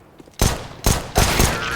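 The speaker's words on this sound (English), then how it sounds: "I'm throwing a grenade." A grenade in CS:GO on the Dust II map goes off in three loud, sharp blasts in quick succession, each with a short rumbling tail, close and without talk.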